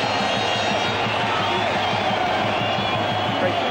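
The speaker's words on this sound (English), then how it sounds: "Great crowd at Lansdowne Road." Football crowd of Sligo Rovers fans roaring at Lansdowne Road, a dense, steady wall of cheering that stays loud for the whole stretch, with a commentator talking over it.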